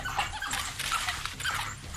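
Three African wild dogs surround a male bushbuck on open ground near a thicket, giving close, high-pitched whimpering and yipping calls that run continuously through the short stretch.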